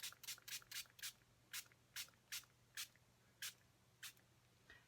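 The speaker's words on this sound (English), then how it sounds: "It's actually 13 sprays I did there, fairly close." A spray bottle mists water onto an ink stamp in about thirteen quick, close spritzes, the first few rapid and the rest evenly spaced, over a quiet background hum.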